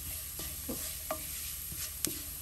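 Ginger fries gently in oil over a low flame for Kerala inji puli, a soft, even sizzle punctuated by a few light spoon taps and stirring clicks.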